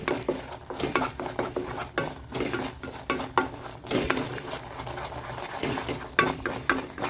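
A thickening coconut cake mixture being stirred in a pan, with rhythmic scraping strokes of a spoon against the metal and a faint bubbling underneath, fairly close and without talk.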